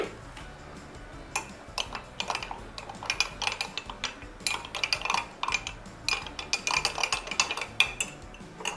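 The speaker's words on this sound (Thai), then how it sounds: "เราใช้แป้งข้าวโพดหนึ่งช้อนโต๊ะนะคะ เราใส่น้ำลงไปค่ะ เดี๋ยวเราคนก่อนค่ะ" A spoon stirring one tablespoon of cornstarch into water in a small bowl, with light quick ticking clinks against the bowl in an uneven rhythm, close and fairly quiet, and no talking.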